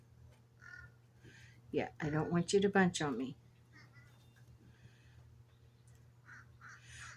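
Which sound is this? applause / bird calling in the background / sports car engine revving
bird calling in the background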